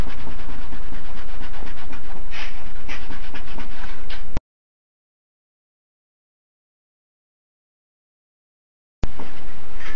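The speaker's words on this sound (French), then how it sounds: "on va nettoyer le PCB avec de l'alcool à 90" A cloth with 90-degree alcohol scrubs a printed circuit board in quick, close rubbing strokes, broken by a few seconds of silence before the scrubbing starts again.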